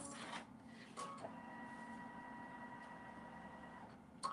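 A computerized embroidery sewing machine stitches appliqué for a strawberry quilt block, sewing the green pieces beneath the flowers with blanket stitches, giving a steady mechanical whir and hum with rhythmic stitching throughout and a few brief louder clunks.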